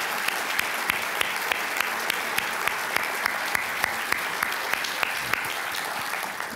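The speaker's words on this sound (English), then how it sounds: "applause would be great" An audience at a lecture on slavery and the Supreme Court gives sustained, even applause filling the room for several seconds, steady and moderately loud throughout.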